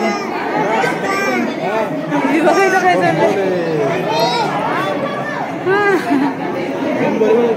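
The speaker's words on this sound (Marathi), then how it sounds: "जामच गर्दी करून ठेवली इथं, निघतच नाही." Dense crowd chatter fills the Shiv temple at the Ellora caves. Many voices overlap in a packed, echoing space, and nearby family members talk over the general babble.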